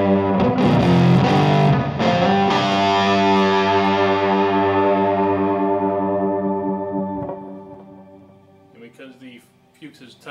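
Electric guitar played through a Fuchs Wild Card 100 amp at maximum gain into a custom Weber Alnico 1x12 speaker: a loud, heavily distorted sustained chord rings out and slowly decays, followed by a few softer picked notes near the end.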